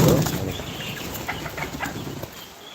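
Chickens and ducks cluck and call close by, with a brief flutter of wings at the start, then scattered softer clucks over light background noise.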